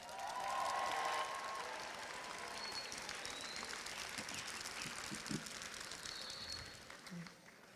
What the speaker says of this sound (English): Let's give the class of 2026 a round of applause.